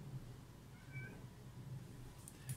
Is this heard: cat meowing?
yes